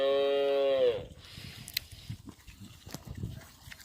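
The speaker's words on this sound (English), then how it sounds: "The cows and the pigs turn it all into compost" Farm cow lets out a loud, long moo close by, then fades into quieter shuffling and grunting livestock noises, likely pigs and cattle, in an outdoor pen.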